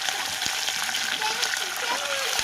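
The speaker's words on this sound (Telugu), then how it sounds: "ఇవన్నీ అయితే బాగా ఫ్రై అయినాయి కదా, అలానే కరివేపాకు కూడా వేసేస్తున్నాం" Curry leaves crackle and sizzle in hot oil for a tamarind rice tempering, a steady close hiss with faint tonal traces running throughout.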